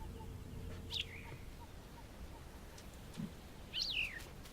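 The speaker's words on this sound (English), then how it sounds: "Little bird thing." Birds in the video game Myst IV: Revelation give two brief, fairly faint chirps, one near the start and a longer warbling call near the end, over a low steady ambient hum.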